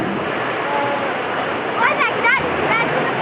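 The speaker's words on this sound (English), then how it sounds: "There's too much water coming." Rushing water roars loudly and steadily through the gaps at Horizontal Falls as a boat approaches, with people's voices breaking in over the churning flow.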